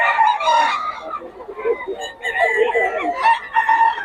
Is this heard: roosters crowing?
yes